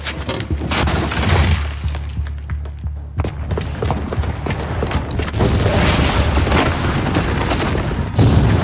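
A bomb blast in Horizon Zero Dawn, a loud booming explosion with crashing, shattering debris and heavy rumble that keeps roaring and rattling for several seconds, with no voices.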